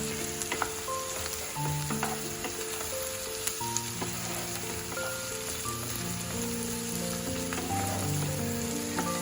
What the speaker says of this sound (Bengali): পেঁয়াজটা একটু ভালো করে ভাজা ভাজা হয়ে গেলে তারপরে আমি এতে বাকি জিনিসগুলো দেবো